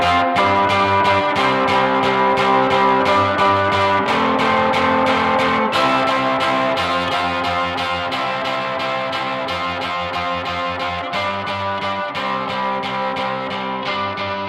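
An indie band mix plays steadily with drums, bass and guitar washed in reverb, dense and loud throughout with no talking.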